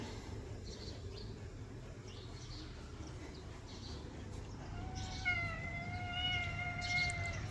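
A pet cat at home waiting for milk meows several times in the latter half, clear rising cries over a steady low background hum, with faint bird-like chirps earlier.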